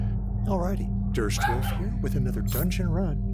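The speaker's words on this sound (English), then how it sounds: "You can hear my little dog in the background." A small pet dog yips and whimpers in short bursts behind someone talking over a constant low electrical hum, the high, wavering barks repeating several times through the speech.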